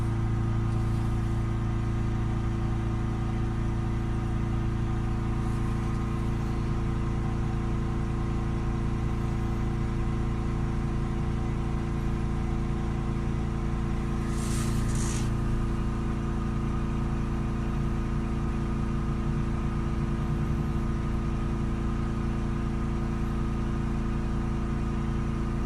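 A Ford Transit Custom 2.2 diesel engine is held at about 3200 RPM, giving a constant loud, droning hum with no change in pitch and one brief click partway through.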